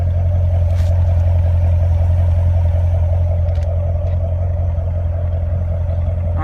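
A Corvette Stingray with a performance exhaust idles loud and close, a constant low engine rumble holding steady throughout with faint clicks but no rising rev.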